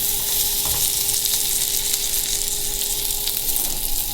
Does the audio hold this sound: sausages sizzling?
yes